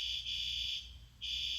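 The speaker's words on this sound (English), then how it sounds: "Fire alarm." A fire alarm sounds indoors with a shrill, steady high-pitched tone that breaks off briefly and then resumes, fairly faint with no talking.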